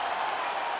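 A packed arena crowd roars in sustained applause and cheering after a fight goes the full 25 minutes to a finish, a dense, steady wash of noise with no breaks.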